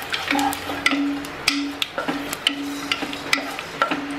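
Whole dried red chilies sautéing in a pan, a light sizzle under sharp, irregular ticks and scrapes of a spoon stirring them, close and fairly quiet.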